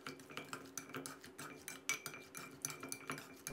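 Rapid clinking and scraping of utensils against a bowl while mixing a Thai crispy papaya-style salad with dried shrimp, a busy irregular clatter with no voices.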